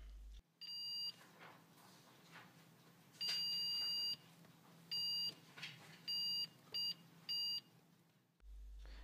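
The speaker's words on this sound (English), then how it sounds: "with one probe on the outside connector and one probe on the chip lead, you should get a beep for every single one" Repeated electronic beeps from a multimeter's continuity test as probes touch each soldered lead of a fine-pitch SMD chip: a long tone followed by several short, evenly spaced beeps, fairly quiet and alone.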